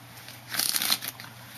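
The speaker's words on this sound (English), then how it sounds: "shuffle the deck, maintaining their card to fall last" A deck of playing cards shuffled during a magic trick, a single short riffle burst that swells and fades, close and quiet with no speech.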